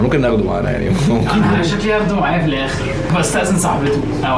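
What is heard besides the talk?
None of the usual background noises is heard.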